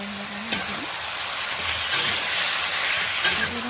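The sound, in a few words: red amaranth stems frying in a kadai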